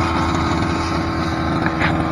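A grass cutter runs steadily near a garden plot of string beans and chili plants, its engine giving a loud, continuous drone with no breaks.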